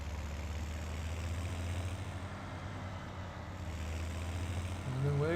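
Low, steady idle of a tractor engine in Farming Simulator 17, a constant deep rumble that stays even and moderately quiet, with a slight rise and a faint chirp near the end.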